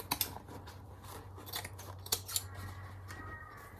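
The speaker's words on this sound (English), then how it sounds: "I'm actually going to cut that edge off so it's not too bulky." Sharp scissors cutting the edge off a piece of vintage linen for a quilt, a run of close, crisp snips and crunches spread across a few seconds in a quiet room.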